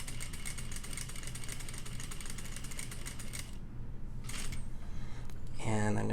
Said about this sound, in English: I'm going to sew up to my next pivot point